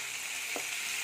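Fish pieces frying in oil with spices as they are cooked down for a fish curry with cumin and ginger, a constant soft hiss with a faint single clink.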